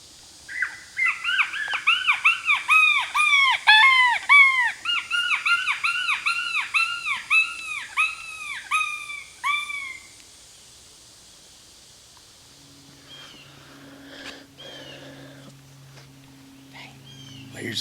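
A coyote pup distress call, played to lure coyotes in hilly woods, gives loud repeated high yelping squeals for about ten seconds, then trails off into quiet outdoor ambience with faint low hum.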